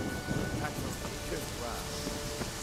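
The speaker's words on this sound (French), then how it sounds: "Un orage." A thunderstorm with heavy rain on the Skellige isles in The Witcher 3 video game, a dense, steady downpour with a low rumbling underneath, brief and continuous.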